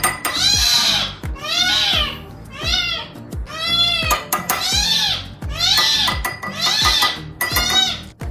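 A kitten meows insistently, giving about eight loud, close, drawn-out cries at a steady pace of roughly one per second, with faint clinks of dishes in the background.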